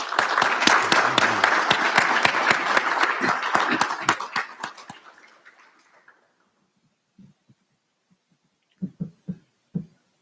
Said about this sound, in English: we give a round of applause to Dr. Sams and Dr. Anker for their words of encouragement and wisdom